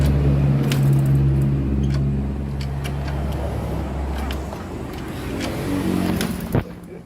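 A Euro 110 motorcycle engine catches and runs unevenly, a low steady idle hum with faint revving and scattered clicks, fading slightly, then a short knock near the end.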